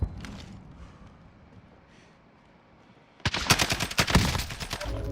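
Close automatic gunfire in Call of Duty: Modern Warfare Warzone battle royale, a loud burst of rapid shots erupting after a quiet stretch of faint movement, no voices during the fire.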